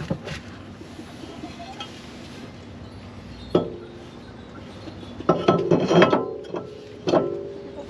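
Metal parts clinking and clattering as a brake caliper and rotor are unbolted and come off a Nissan 240 drift car, with a few sharp knocks and a burst of rattling clanks near the end.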